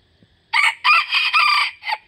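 A young rooster, an eight-month-old straw-coloured Thai fighting cock with white cheeks, crows once close by, a loud drawn-out call in several rising and falling segments lasting about a second and a half.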